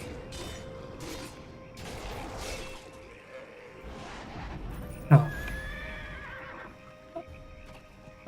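A horse in the video game Neverwinter whinnies and its hooves clop, fairly quiet and close, with a sharp crash-like hit partway through and faint speech in the background.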